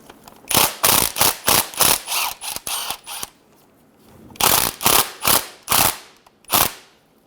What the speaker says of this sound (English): Just take that bolt out a few threads.